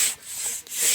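A hand saw cuts wood on a forest trail during trail logout work, giving steady raspy back-and-forth rubbing strokes close by, with two short pauses between pushes.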